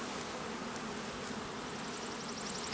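Honeybees swarming around an open hive frame pulled from the middle of a colony: a dense, steady, faint buzzing drone holds without a break, with no voices.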